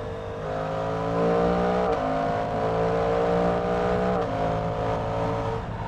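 Suzuki GSX-8S motorcycle engine accelerating hard through the gears with the quick shifter, a loud close rising engine note that drops sharply at each of two quick upshifts before climbing again.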